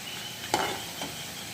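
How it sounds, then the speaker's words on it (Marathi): Puris deep-frying in oil, a steady gentle sizzle with a brief louder hiss and a soft utensil tap. "आता याच्यानंतर पुऱ्या तळून घेते मी"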